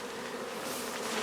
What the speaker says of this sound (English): Bees are swarming. Look at the little devils. Look at them in the sky.